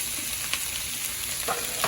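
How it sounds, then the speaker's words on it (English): Vegetables for chicken fajitas fry in a pan with a continuous close sizzle, broken by a few brief louder crackles and stirring scrapes, and no one speaks. "these veggies are going to be cooking"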